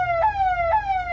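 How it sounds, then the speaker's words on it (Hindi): A siren amplifier fitted to a Mahindra Thar sounds loud and close, rising and falling in a fast, repeating electronic wail with two cycles in about a second. "ये साइरन का ऑन करना भाई, ये तीसरा बटन"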